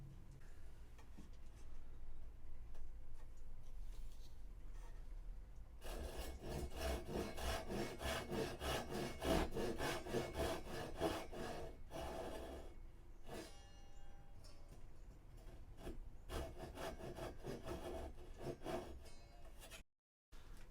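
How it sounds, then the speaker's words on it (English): A hand saw cuts across a wooden crossbow tiller in steady, rhythmic back-and-forth strokes, close and fairly loud. The strokes begin after a few seconds of quiet handling and continue with brief pauses. "Carefully saw towards the chamfer lines, stopping just short of both the top"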